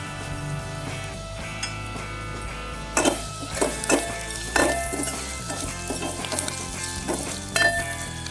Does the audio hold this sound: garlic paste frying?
yes